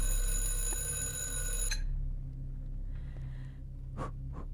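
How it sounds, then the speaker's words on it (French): A ringing alarm clock in the horror video game The Wellmonts Case, loud and steady at the start, then cutting off abruptly after about two seconds, leaving faint room noise and a few soft clicks. "Ah non, c'est un réveil."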